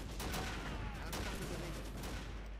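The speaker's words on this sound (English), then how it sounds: "The artillery is just bombing the living fuck out of us at this point." Artillery bombardment in a Blitzkrieg real-time strategy game: a dense, continuous roll of overlapping blasts and gunfire, with sharper booms punching through a steady rumbling wall of sound at moderate loudness, with no talk over it.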